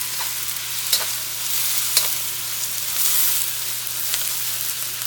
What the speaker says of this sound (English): now I'm going to mix all that in